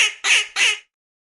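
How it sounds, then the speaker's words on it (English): Duckling by a pond giving three quick nasal quacks in a row, loud and close, then silence. "Duckling."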